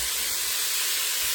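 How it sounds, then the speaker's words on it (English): Leeks sauteing in a French crock-pot while making leek and potato soup, a steady bright sizzling hiss running loud and continuous through the whole moment with no voices. "Those are leeks sauteing in the French crock-pot thing"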